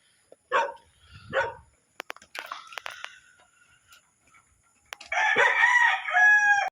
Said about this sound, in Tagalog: Yung mga manok mga boss ha